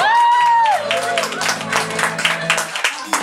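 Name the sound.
audience applause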